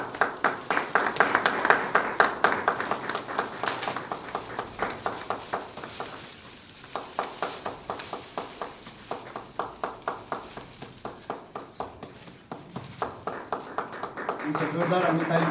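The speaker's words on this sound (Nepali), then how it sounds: "हामी जोरदार ताली बजाइरहनेछौँ" An audience at a book launch claps in a steady, rhythmic beat for several seconds, the sound moderately loud and mixed with voices speaking.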